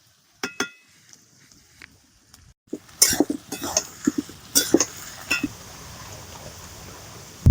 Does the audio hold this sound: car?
no